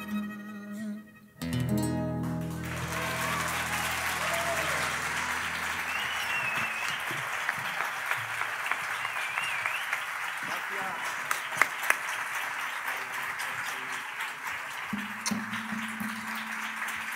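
Audience applause at La Casa Salitre after a song performance, rising from the song's final sustained notes into loud, dense clapping that continues with scattered cheers and a voice over the crowd.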